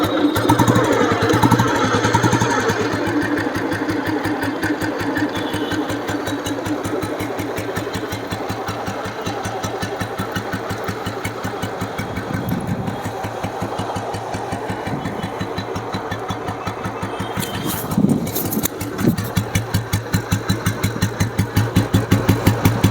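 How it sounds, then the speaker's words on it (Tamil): Restored 1994 Royal Enfield Bullet engine idling with a steady, evenly spaced thumping beat, close and continuous, briefly revving before settling back. "இன்ஜினோட பீட் எப்படி இருக்குன்னு காட்டுறேன் பாருங்கள்"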